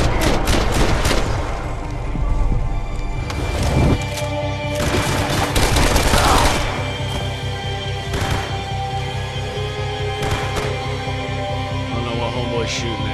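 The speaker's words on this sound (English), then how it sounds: "I don't know what the hell Max was just shooting at there." Video game gunfire in Max Payne 3: dense bursts of shots and booming impacts ring out through the first seven seconds, then scattered sharper cracks continue over a steady background, with voices talking at times.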